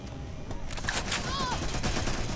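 Gunfire in the video game Watch Dogs Legion rattles in rapid bursts aimed at the player, a dense fusillade of shots mixed with game sounds, fairly loud throughout.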